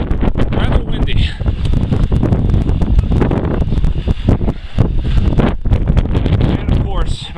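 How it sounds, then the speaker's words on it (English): Strong gusty wind buffets the microphone near a ravine outlook on Mount Washington, a loud continuous roar and rumble filling the whole stretch with rustling bursts. "rather windy"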